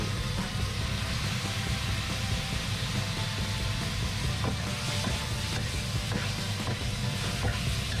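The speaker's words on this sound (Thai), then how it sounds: "ใส่พระเอกของเราครับมะเขือยาวครับ ที่เราต้มสุกแล้ว ลงไปผัดนะครับ" Boiled long eggplant is stir-fried in a pan with minced pork, giving a loud, continuous sizzle close up, with light scraping and clicking from the stirring throughout.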